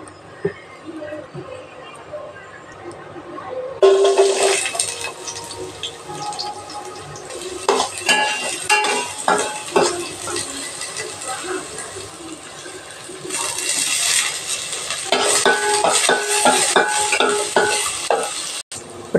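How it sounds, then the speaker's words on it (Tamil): Chicken pieces fry in oil in a pan, a sudden loud sizzle bursting in and continuing with spoon stirring and scraping, close and busy, while a voice talks over it. "இப்போ இதை ஃப்ரை பண்ண போகிறேன். முதல்ல ஆயில் ஊற்றிக்கலாம்"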